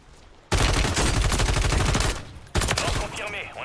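Rapid automatic gunfire from the Warzone / Modern Warfare 3 shooter, loud and close, in a dense burst for about two seconds, a short pause, then another sustained burst.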